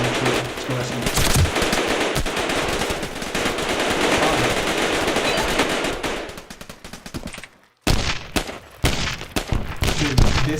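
Rapid SMG gunfire fills an open-source video game, with long sustained bursts of loud, dense automatic shots, a brief gap of silence, then more choppy bursts.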